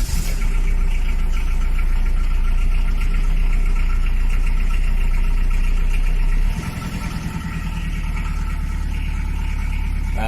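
The diesel engine of a rusty Citroen BX with an old Bosch pump idles loudly and steadily close by, a rough, throbbing rumble that dips slightly partway through.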